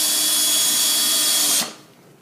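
Power drill drives a screw into a metal storage rack, a loud steady high whine held for about a second and a half before cutting off sharply into quiet.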